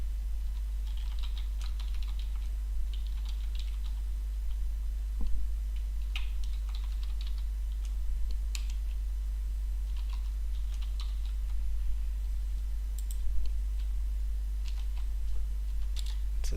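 Computer keyboard typing while Java code is entered, scattered soft key clicks in irregular bursts over a low steady hum, fairly quiet and close, no talking.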